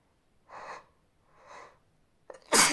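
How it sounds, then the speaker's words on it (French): A woman's sneeze building up through two soft, breathy inhalations, then bursting out as a loud, sharp sneeze near the end, close and alone. "j'ai envie d'éternuer"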